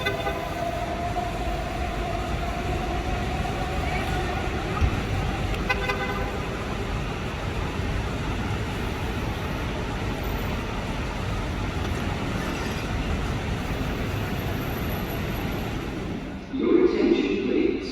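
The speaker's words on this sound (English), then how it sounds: "The metro has taken off." Dubai Metro Red Line train pulling out of a station, a loud steady rolling rumble with a faint high tone, ending with a sudden drop and a brief clatter near the end.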